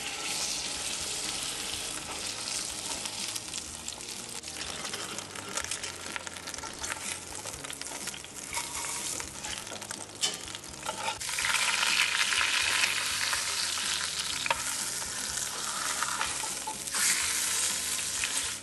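The fat side of a lamb shoulder sears in a hot pan, a loud continuous sizzle and crackle that holds for many seconds and swells louder partway through, with no talking.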